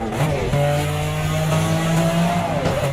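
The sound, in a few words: Ferrari Testarossa driving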